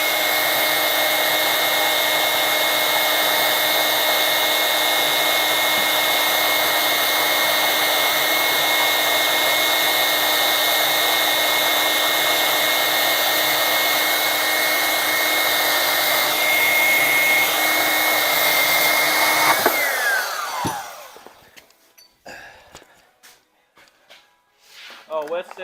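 An angle grinder fitted with a buffing disc runs at a loud, steady high-pitched whine for about twenty seconds, then winds down and stops, followed by scattered handling noises in a workshop.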